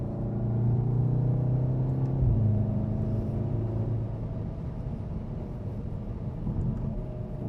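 A 2015 Volkswagen Golf R driven hard on a race track, its engine droning loudly and steadily with a brief pitch drop around a gearshift, then a continuous rumble with no talk.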